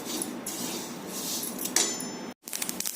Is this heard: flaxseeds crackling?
yes